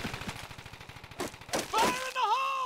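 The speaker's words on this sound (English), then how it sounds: "The MGs are covering the bunker." Rapid bursts of machine gun fire during a D-Day beach landing in Company of Heroes, a fast rhythmic rattle that gives way to louder blasts and a rising whine near the end.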